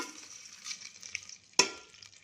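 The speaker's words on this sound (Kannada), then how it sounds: "ಇದೆಲ್ಲ ಸ್ವಲ್ಪ ಚಟಪಟ ಅಂತ ಸಿಡಿಲಿ" Mustard seeds, chana and urad dal, cumin, fenugreek, curry leaves and two chillies spluttering in hot oil, a soft, close crackling fizz broken by one sharp, louder pop near the end.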